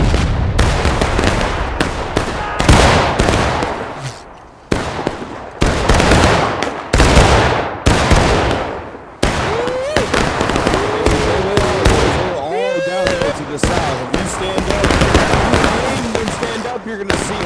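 Massed Civil War musket volleys crackle in a video game battle during the Manassas campaign, loud bursts of ragged gunfire repeating in irregular waves for the whole stretch, with a voice talking beneath in places.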